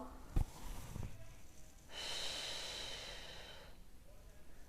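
Slow breathing during a pregnancy back exercise, a soft breath followed by a long, airy exhale in a quiet room.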